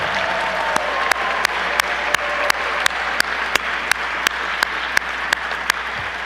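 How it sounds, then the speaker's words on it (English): An audience at a formal gala of a classical studies school applauds Jack Davis with steady, full clapping. Sharp, distinct individual claps stand out at a regular pace above the general wash of applause. "Round of applause for Jack Davis."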